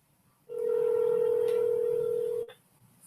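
A telephone call plays a single steady dial tone held for about two seconds, loud and alone, then cuts off abruptly.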